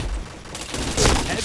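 Gunfire in a video game, a brief burst of rapid shots that swells near the end, loud and close.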